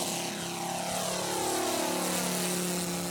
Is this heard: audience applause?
no